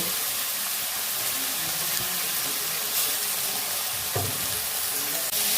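Fried vegetables are stirred together in a hot pan while preparing a wheat flour breakfast dish, giving a steady close sizzle and hiss with a few scraping and clinking knocks of the utensil, no talking.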